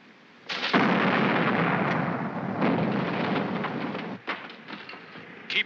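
A ship's cannons fire in the 1952 pirate film Captain Pirate: a loud booming volley swells into a long rolling roar, followed by a sharper blast and another late report.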